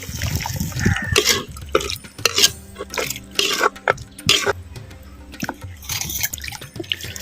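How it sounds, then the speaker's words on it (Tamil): Boiled banana flower water pours and splashes into a pot of rasam in uneven bursts, liquid trickling and dripping between louder gushes, close by with no talk. "இப்போ நம்ம வேக வச்ச"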